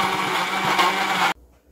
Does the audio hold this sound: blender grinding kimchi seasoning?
yes